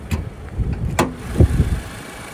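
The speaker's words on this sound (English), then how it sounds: "There's that Subaru Boxer 4-cylinder engine running like a champ." A 2023 Subaru Crosstrek's Boxer four-cylinder engine idling with the hood open, a low, steady rumble marked by a few sharp clicks and knocks nearby.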